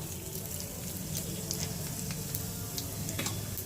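Mustard seeds and cumin sizzle in hot oil in a wok, a steady close crackle with scattered sharp pops and no talking.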